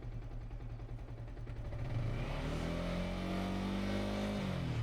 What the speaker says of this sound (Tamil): இப்போ வந்து நம்ம இன்ஜின் நாய்ஸ் நீங்கள் கேட்டு பாருங்களேன்.